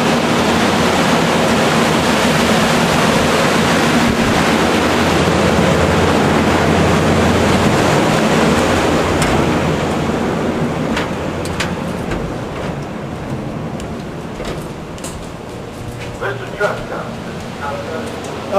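Engine room of the NASA crawler transporter, which drives 1,000 kW DC generators, fills with a loud, steady roaring drone and broadband machine noise. It eases slightly near the end, where a few clicks and knocks come through.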